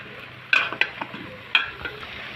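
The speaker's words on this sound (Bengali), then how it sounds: "এখন নেড়ে চেড়ে মশলার সাথে মিশিয়ে নেব সব সবজিগুলো।" Mixed vegetables are stirred with spices in hot oil in a pan, a few sharp spatula clinks and scrapes over a soft steady sizzle, close by and without speech.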